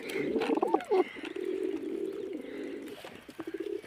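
Pigeons coo softly and continuously at close range: a steady low throaty murmur with a few louder rolling coos near the start and light rustling underneath.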